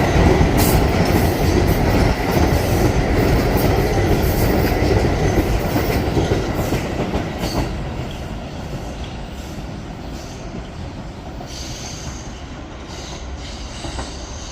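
A Staten Island Railway R44 train runs past with a loud, steady rumble of wheels on rail and occasional squeals, gradually easing off in level toward the end. No one speaks.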